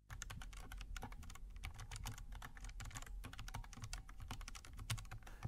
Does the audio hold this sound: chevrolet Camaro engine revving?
no